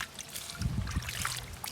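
Water pouring and splashing for washing a toy truck, a close trickle with a few louder sloshes partway through, with no talking.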